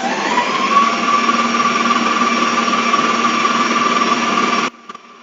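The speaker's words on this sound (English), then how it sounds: "and then it's back on the whisk" An electric whisk beating lemon and elderflower cake batter runs at a steady, loud, even whine with a constant pitch, then cuts off abruptly near the end, followed by a faint clack.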